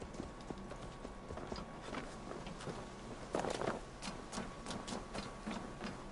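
Horse hooves clip-clop in a steady trotting rhythm in the video game Assassin's Creed Valhalla, moderately quiet over a soft ambient bed, with a brief louder burst partway through.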